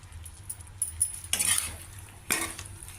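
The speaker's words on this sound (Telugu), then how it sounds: "బాగా అన్నీ కలిసేలాగా మిక్స్ చేసుకోవాలి" A spoon stirs bitter gourd curry mixed with sesame chili powder and salt in a pan, making a few short, close scraping and sizzling strokes separated by brief pauses, with no voices.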